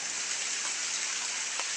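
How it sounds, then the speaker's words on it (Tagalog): Heavy rain pours down steadily, a dense unbroken hiss with a few louder drops standing out. "biglang lumakas yung ulan po"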